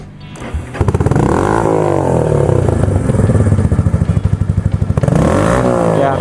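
A small motorcycle engine revs loudly up close, its pitch rising and falling through a couple of throttle blips with a rapid, pulsing exhaust rattle.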